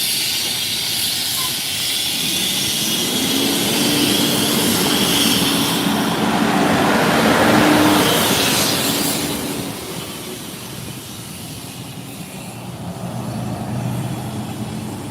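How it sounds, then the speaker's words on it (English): A concrete truck at the SpaceX Starbase launch site in Boca Chica, Texas rolls out past the main gate. Its broad engine roar and hiss build to a peak midway and then fade, with no talking. "See one of the concrete trucks coming out here."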